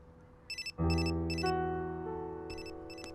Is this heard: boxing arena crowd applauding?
no